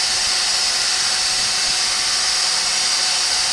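A wood lathe spins a bud vase weed pot while a carnauba wax stick is rubbed against it, giving a steady, loud hiss and whir throughout with no talking.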